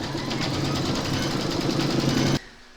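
An embroidery machine stitches a butterfly design on fabric for a bag, giving a steady, close mechanical whirring with a fast rhythmic needle beat that runs evenly and then stops abruptly near the end.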